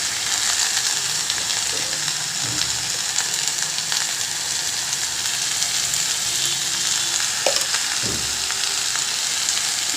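Greens, potato and pumpkin stalks sizzle steadily in hot oil in a Bengali home kitchen, with a continuous close frying hiss broken by a few soft scrapes and clinks as a spatula stirs the pan.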